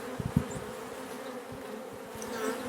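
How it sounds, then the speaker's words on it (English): Honey bees hum and buzz around open beehives during work on a new split, a soft, continuous drone of many insects nearby with no talking. "sorry there's so many bees, but it'll be fine"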